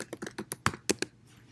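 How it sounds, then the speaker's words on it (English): A computer keyboard being typed on to enter a search, a quick run of about eight crisp clicks that fades out, close up, with no talking. "And I can type in snowplow parent."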